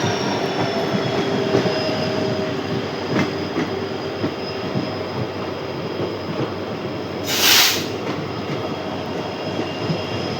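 Goods train hauled by a WAG-12 electric locomotive at Ribda station, a steady rumble of rolling wagons with a rhythmic clatter of wheels, a brief sharp squeal partway through, no talk.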